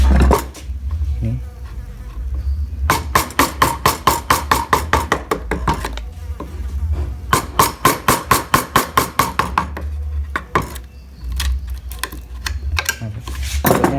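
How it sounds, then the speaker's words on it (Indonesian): A chisel carves into wood from the edge, struck in fast bursts of sharp rhythmic knocks separated by short pauses, close and loud. "kita memahat dari pinggir, jangan dari tengah ya"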